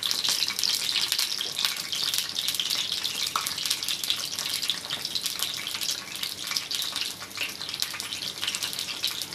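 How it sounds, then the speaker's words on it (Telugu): Snacks fry in hot oil until browned, giving a dense, continuous sizzle and hiss that stays loud and even throughout, close up and with no voices. "వేసుకొని బ్రౌన్ కలర్ వచ్చేంత వరకు కూడా వేపేసుకుందాం."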